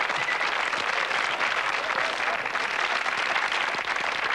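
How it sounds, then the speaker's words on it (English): A television studio audience at a 1988 variety show applauds in a dense, steady wash of many hands clapping, loud and even throughout with no break. "A round of applause"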